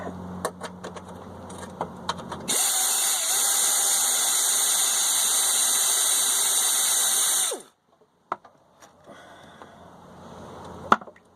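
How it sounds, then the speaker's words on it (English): A power tool, probably an impact driver or ratchet, whirs steadily for about five seconds while removing the transmission pan bolts on a 4T65E automatic transmission. Faint metallic clicks and taps come before and after, close by. "And then I'll remove the last two bolts here."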